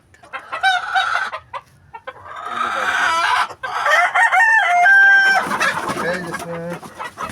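Chickens cluck and a rooster crows nearby in a village yard with trees and a pond, the calls coming in bursts with a clear sustained crow midway, while people talk in the background.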